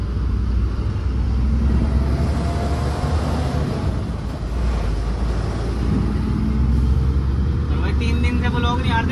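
A vehicle drives along an Indian road with a low, steady engine and road rumble, fairly close, while someone talks over it.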